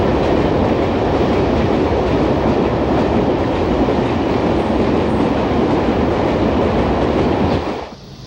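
A passenger train runs on rails between Xi'an and Hanzhong in China, a loud, steady rumble with faint rhythmic clatter that drops away abruptly at the end.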